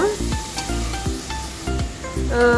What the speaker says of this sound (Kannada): ಈಗ ಟೊಮೆಟೊವನ್ನು ಕೂಡ ಇದ್ರ ಜೊತೆಗೆ ಫ್ರೈ ಮಾಡುವ